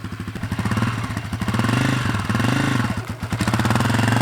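A Honda CRF250F dirt bike engine runs steadily as the bike is ridden, a loud close throbbing drone with a low rapid pulse that rises and eases slightly throughout.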